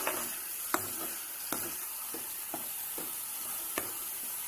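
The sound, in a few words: ginger garlic paste sautéing in a pan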